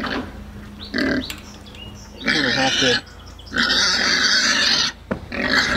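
Farm pigs by a fence give several loud, close bursts of rough grunting and squealing snorts, separated by short pauses, while a person speaks briefly.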